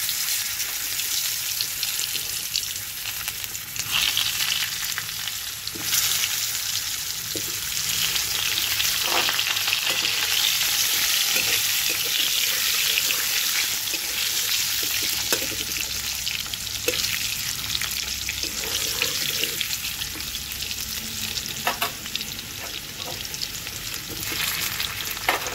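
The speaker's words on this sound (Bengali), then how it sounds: "এবার এই মাছের তেলের মধ্যেই আমি আলুটাকে ভেজে নেব।" Potatoes frying in hot fish oil in a pan, a steady, loud sizzle and crackle that carries on through the whole stretch with occasional stirring clinks and no talk.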